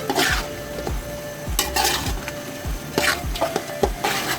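A Bukhari rice mixture being stirred in a pot, with repeated scraping and knocking of a spoon against the pan over a soft sizzle, heard close with no voices.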